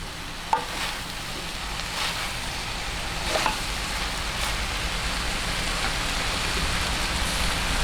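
Half-cooked vegetables and cabbage are stirred in a pan, giving a soft continuous sizzle like light rain, with a few sharp scrapes of the utensil near the start and at about three seconds.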